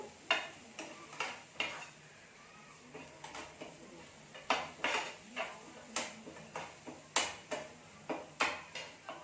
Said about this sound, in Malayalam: അപ്പോൾ അതൊന്ന് മിക്സ് ചെയ്യാം.